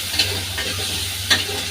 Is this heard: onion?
yes